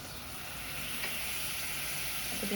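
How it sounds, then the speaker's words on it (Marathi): A soft, steady sizzle from jaggery melting with a spoonful of water in a pan on the heat, faint and continuous with no talking. "आपण आता गूळ हा थोडा वितळवून घेऊया"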